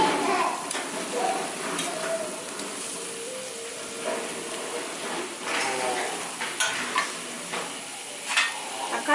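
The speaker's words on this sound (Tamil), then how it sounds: "தக்காளி போட்டு கொஞ்சம் உப்பு போட்டுருங்க. தக்காளி சீக்கிரம் வதங்கிடும்." Tomatoes are sautéed with salt in a pan, with a soft sizzle and repeated stirring scrapes and taps of a utensil, close up, while a voice speaks over it.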